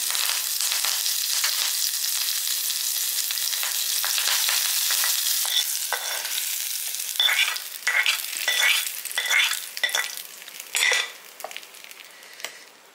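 Finely chopped onions and curry leaves fry in a hot tempering for a coconut-free Madurai thanni chutney. A loud, steady sizzle runs throughout, and the later part carries scraping and clinking as a spoon stirs the pan.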